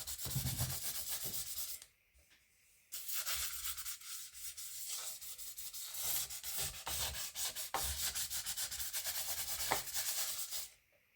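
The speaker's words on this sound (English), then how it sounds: "I'm just going to give it a light sand and do one more coat on the side" Steady scratchy rubbing of sandpaper lightly sanding resin-coated wood with stickers, in long back-and-forth strokes with one brief pause, close and fairly quiet.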